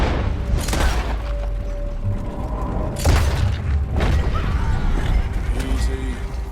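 Gunfire in the video game Red Dead Redemption during a confrontation with United States Army soldiers over cargo: two loud, sharp blasts about three seconds apart with ringing decay, over continuous game ambience.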